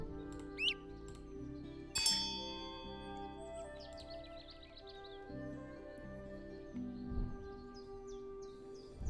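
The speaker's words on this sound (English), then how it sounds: "You can click our opponent's birds to hear their call types, their chirps," Chirps and trills from birds in the digital board game Wingspan: Digital Edition, a few short tweets and a warbling call ringing out over a steady low musical drone, fairly soft with no talk.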